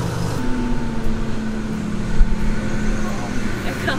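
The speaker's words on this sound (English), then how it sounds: "Here comes the garbage truck or something." A garbage truck rumbles past on a residential street, a steady low engine drone lasting several seconds with a person talking over it.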